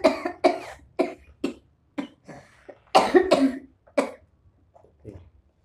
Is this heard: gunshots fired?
no